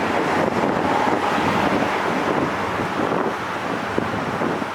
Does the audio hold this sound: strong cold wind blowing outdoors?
yes